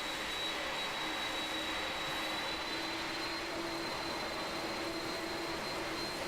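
Steady, even roar of Boeing 767 jet engines at taxi power in Microsoft Flight Simulator 2020, a continuous broadband whine with a faint high tone, unchanging throughout and with no voices.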